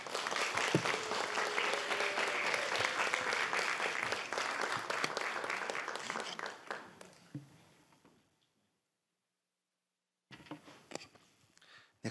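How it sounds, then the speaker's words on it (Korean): A congregation at a Sunday church worship service applauds to welcome a preacher, with loud, steady clapping for about eight seconds that fades into silence before a brief burst of sound returns. "우리 박수로 한번 맞을까요?"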